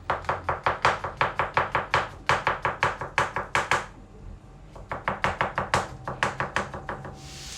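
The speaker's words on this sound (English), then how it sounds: "to do this I need to cut lots of mushrooms up" Knife chopping mushrooms on a cutting board, a fast steady run of sharp close knocks, pausing briefly near the middle before resuming, with no talk over it.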